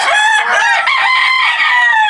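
A rooster crows loudly and close by, one long strained cock-a-doodle-doo filling the whole moment.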